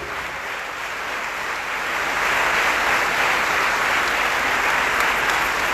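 Congregation applauding during a Baptist church worship service, a dense, steady wash of clapping that swells louder partway through and keeps going without speech.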